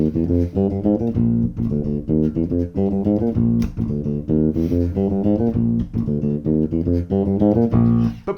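A bass guitar plays a busy funk fill, steady and upfront, with quick plucked notes in a driving groove alongside a full backing track and drums.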